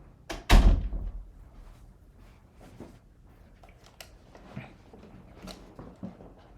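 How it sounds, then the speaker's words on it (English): A door shuts with one loud, close thud, followed by a few faint knocks and small movements in a quiet room. "I'm shutting the door."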